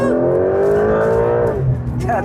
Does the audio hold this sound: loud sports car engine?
yes